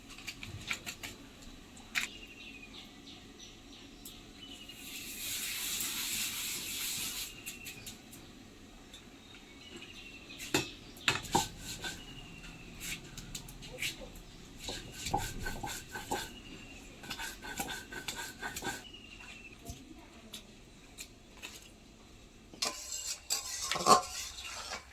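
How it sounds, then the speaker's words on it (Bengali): Poppy seeds are ground by hand on a traditional stone slab with a stone pestle (shil-nora) in a home kitchen, giving quiet repeated scraping and rubbing strokes with scattered knocks and clinks over a faint background. "এই সময় আমি পোস্তটা শিলনোড়া দিয়ে বেটে নেব।"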